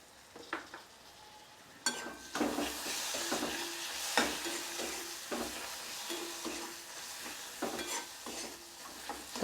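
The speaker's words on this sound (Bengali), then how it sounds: "টমেটোটা আমি 2 থেকে 3 মিনিট ভালোভাবে কষিয়ে নেব।" Chopped tomato frying in hot oil in a pan for Bengali masoor dal tadka, with a steady sizzle and repeated scraping stirs of a spoon against the pan, close and alone.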